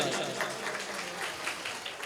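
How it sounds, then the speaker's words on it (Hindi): Faint, continuous applause from an audience at a Jain children's education camp closing ceremony, a soft, even patter of many hands heard at a distance. "जोरदार तालियों के साथ"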